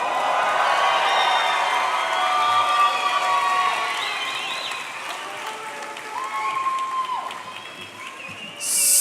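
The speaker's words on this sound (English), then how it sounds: "Cheer them on. I know you're excited." A crowd of guests at a medical school white coat ceremony cheers, whoops and applauds loudly in a large hall, the roar steady for several seconds, easing slightly, then swelling again at the end.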